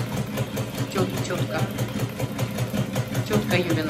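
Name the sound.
sewing machine running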